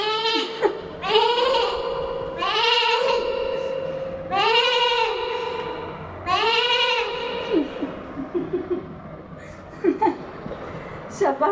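A child imitates a goat with her voice, giving several drawn-out, wavering bleats in a row during a party game at home, followed by a few shorter bleats and laughter near the end.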